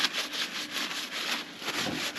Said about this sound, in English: Get rid of my horrible Finger marks.